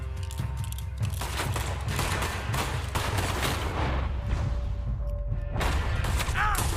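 Gunfire in Red Dead Redemption 2 cracks out in a rapid fusillade of repeated close shots with heavy booms, continuous over several seconds amid game sounds and brief voices.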